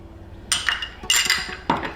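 Whisk clinks against a bowl while mixing a thick powdered sugar, olive oil and maple syrup glaze, three separate bursts of metallic clinking and scraping, close and without talk.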